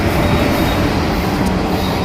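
A train on the Vellayani–Chullamukku track in Trivandrum runs past from north to south, with a loud, steady rumble and rolling rail noise throughout and no voices.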